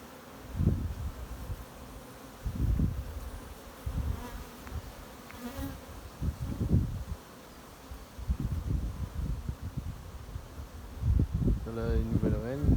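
Buckfast honey bees hum around a hive outdoors, a close, continuous buzz that swells and fades as individual bees fly past, with low voices talking at times.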